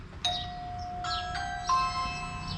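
A house doorbell chimes after a Ring doorbell is repowered: a clear ding-dong tone rings out loudly, followed by two or three more bright chime notes that ring on and decay over a faint background.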